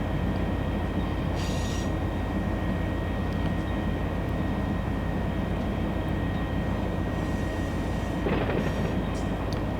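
A train rolling along rails with a heavy, constant low rumble and steady rail noise, with occasional brief higher squeals or rattles rising above it; no one speaks.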